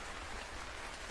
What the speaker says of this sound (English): The rain sounds soft, steady, like a gentle nudge towards sleep